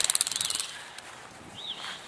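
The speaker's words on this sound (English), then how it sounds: "right now, my dad's screwing in the birdhouse" A birdhouse being screwed into place outdoors, with a quick run of about a dozen ratcheting clicks up close at the start, then quieter handling noise and a faint bird-like chirp.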